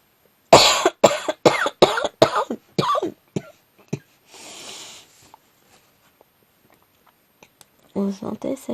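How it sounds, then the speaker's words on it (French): A woman coughs in a rapid series of sharp, close bursts, followed by a softer breathy sound and quiet, then faint voices at the end. "On sentait celle qui essaye de retenir un maximum la toux."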